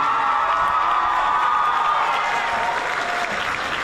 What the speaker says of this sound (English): a huge round of applause for these amazing individuals